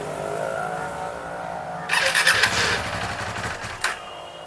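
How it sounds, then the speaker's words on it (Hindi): Motorcycle engine cold start, with a low background hum before the engine catches partway through with a sudden rougher burst, then idles unevenly with a few sharper blips. "अभी कोल्ड स्टार्ट करते इसको"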